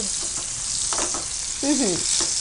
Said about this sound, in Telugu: పచ్చిమిర్చి కాస్త ఫ్రై అయినాక అందులోనే ఆనియన్ పేస్ట్ అలానే టమాటా పేస్ట్ కూడా యాడ్ చేస్తాం